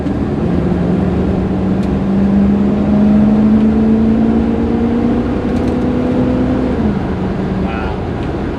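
A classic Buick muscle car engine pulls steadily along an open road from inside the cabin with the air conditioning running, giving a continuous loud drone whose pitch rises slowly, then dips near the end.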